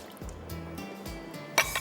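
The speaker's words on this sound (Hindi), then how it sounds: "इसके अंदर जाएगा इमली का रस" Tamarind juice poured over raw minced meat in a bowl, a faint wet splash and trickle close by, ending in a brief clink.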